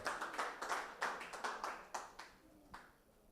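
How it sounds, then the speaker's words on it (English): Scattered hand claps from a small audience welcoming a lawyer to the podium at a residential property launch event, a thin sparse patter of separate claps that thins out and fades. "Let's welcome her with a warm applause."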